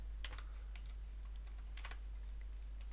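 Keystrokes on a computer keyboard while entering text into a LaTeX editor, sparse taps in small bursts with pauses between them, close and fairly quiet over a steady low hum.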